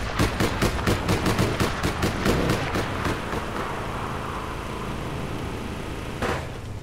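Rapid bursts of automatic gunfire in the video game APB: Reloaded, loud and close, a dense run of shots for about three seconds that trails into echo, then one more sharp shot near the end.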